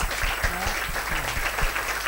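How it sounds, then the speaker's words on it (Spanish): An audience at a live show breaks into a short burst of clapping, dense and fairly close, with a faint murmur of voices mixed in. "Un aplauso para ellos."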